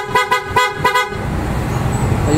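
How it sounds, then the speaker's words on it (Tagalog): A loud PIAA car horn fitted to a Nissan Clipper NV100 blasts in four quick successive toots, followed by a sustained steady honk with a rumbling engine underneath. "Pakinggan natin mga boss yung tunog ngayon ng Auto Style Horn."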